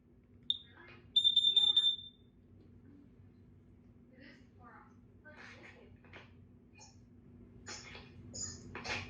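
A Kidde smoke and carbon monoxide alarm sounds during a test, giving a sharp short chirp then a loud piercing beeping burst of about a second, followed by quieter scattered clicks and handling noise.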